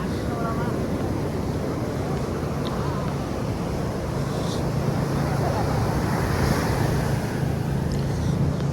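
Steady roar of big surf and wind at Madasari beach fills the air continuously, loud and close, with no distinct breaks between waves.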